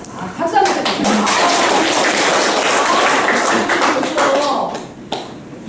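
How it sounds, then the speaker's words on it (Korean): An audience of elderly volunteers at a training session gives a sustained burst of applause, dense clapping filling the room for several seconds before tapering off. "박수 한번 주세요"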